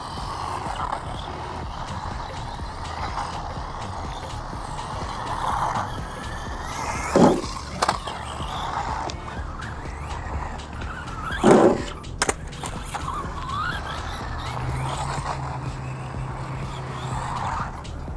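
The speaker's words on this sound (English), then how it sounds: "This is actually going really good for a little mini brush car." Small mini brushed RC truck driving outdoors, a steady motor whine with two sharp bursts of tire scrabble or impact around the middle, then a low hum near the end.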